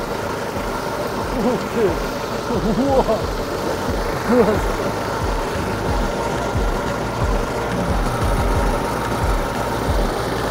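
A Neva walk-behind tractor's small engine runs steadily in first gear with a rotary mower attached, a loud continuous chugging drone close by, and a man exclaims briefly over it.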